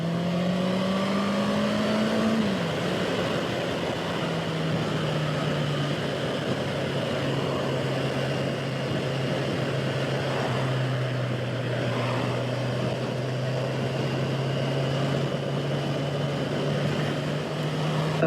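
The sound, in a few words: Honda CB650R motorcycle riding on road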